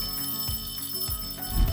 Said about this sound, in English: It's the class bell, and it means that it's time for recess.